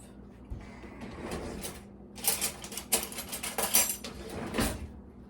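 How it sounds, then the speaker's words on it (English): A knife is grabbed from among kitchen utensils, giving a burst of metallic clinks and rattles, loudest in the middle, with a quieter shuffle before it and a final clatter. "let's grab a knife"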